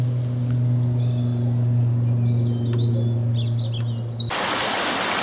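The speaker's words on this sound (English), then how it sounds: "Robin singing in the background." A robin sings in the background on a countryside walk near the River Eden, faint twittering phrases above a steady low engine-like drone, before a sudden burst of broadband noise cuts in near the end.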